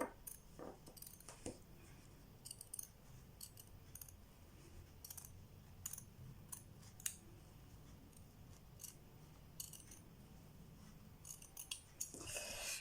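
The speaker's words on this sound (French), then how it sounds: "Allez, je coupe." Scissors cutting felt in a quiet room, a string of short crisp snips spread across the span, close and fairly soft, with light rustling of material between cuts and no talking.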